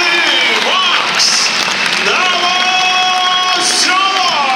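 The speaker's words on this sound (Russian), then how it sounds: "под ваши аплодисменты!" Arena crowd at the Traktor Ice Arena in Chelyabinsk applauding and cheering as boxer Maxim Novoselov is introduced, loud sustained clapping under an announcer's amplified voice with rising whoops.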